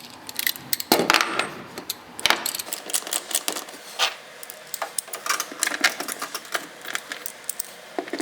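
Bolts on the air filter cover of a GMC Sierra engine are tightened, giving a rapid series of close metallic clicks and ratchet-like ticks with a few louder knocks.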